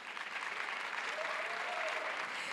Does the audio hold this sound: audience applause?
yes